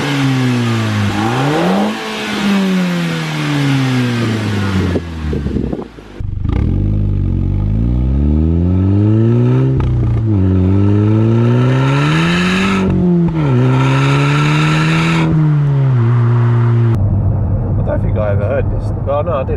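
SEAT Leon Cupra with an aftermarket exhaust revving repeatedly, loud engine and exhaust notes climbing and falling in several strong sweeps, close by, with talk between revs.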